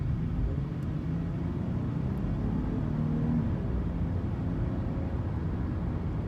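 A 2012 Dodge Charger's engine idles with a steady, low rumble that holds even and continuous throughout, fairly quiet and with no voices over it.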